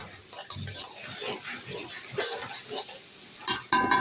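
Chopped onion sizzling in hot oil while being stirred in a pan for a prawn and cauliflower curry, a continuous crackling hiss with soft scraping stirs and occasional louder spatters, close and clear.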